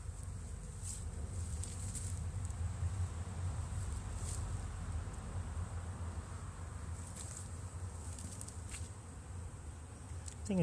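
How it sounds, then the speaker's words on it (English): Bees hum and drone in a continuous low buzz around an opened hive as the beekeeper lifts off the roof after smoking it, with occasional individual bees whining close by and faint rustling. "I think there's going to be quite a few bees just hanging on the crown board"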